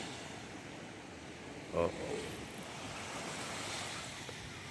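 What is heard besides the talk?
sea waves at low tide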